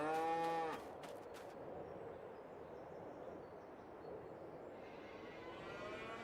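A cow moos once, loud and close, on a dairy farm with a full pasture, then gives way to steady outdoor ambience and a faint, distant low call near the end.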